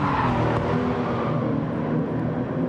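Porsche 993 race car engine at Tsukuba in GT Sport, a loud, continuous engine drone held steady throughout as the car drifts through a corner, with no talk over it.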